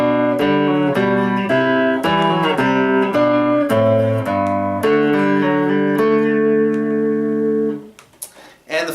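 Piano plays a phrase of the Minuet in G with both hands, a steady run of clear melody notes over a lower bass line, close and bright, ending on a held chord that fades out.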